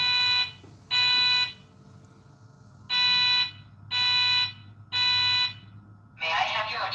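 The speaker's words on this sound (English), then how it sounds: "A fire alarm has been reported." A building fire alarm sounds in loud, harsh buzzing blasts, five bursts of about half a second with uneven gaps over a low hum, then a more ragged burst at the end.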